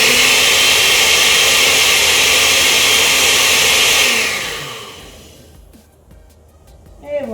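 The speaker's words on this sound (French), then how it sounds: "Et je vais blender encore juste un tout petit peu pour bien mélanger le tout" A countertop blender whirs loudly and steadily, blending a hot homemade drink, for about four seconds before winding down and stopping, followed by faint handling noises.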